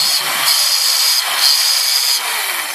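A New-Tech 3-inch rotary cutter's built-in blade sharpener is pressed down, giving three or four close, loud, raspy grinding strokes with brief pauses between them.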